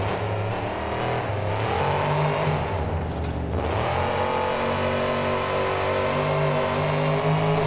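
A monster truck engine in the BeamNG driving game revs hard and steady while the truck wheelies over crush cars and a bus in a stadium freestyle run, loud and close with a brief dip in the roar.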